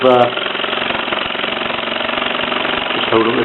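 A Mamod SE2 toy steam engine with an SE1 boiler and brass flywheel drives a brass-wheeled toy workshop, giving a steady rapid mechanical chugging and clatter throughout.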